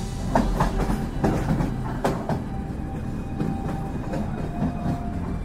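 A moving train rumbles along with a rhythmic clickety-clack of wheels over rail joints, steady and loud from inside the carriage.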